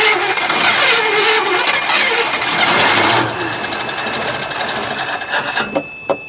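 A 1957 Chevy barn-find engine cranks with a rough, rhythmic whirring from a weak starter that drops off partway through, leaving a lower idle-like hum and a few clattering knocks.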